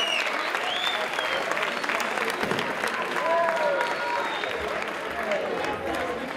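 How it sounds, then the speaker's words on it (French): At a high-school rugby tournament, a crowd applauds the visiting team delegations with sustained, lively clapping, while voices and occasional shouts rise over the steady applause. "On voudrait les applaudir un petit moment de la chaleur."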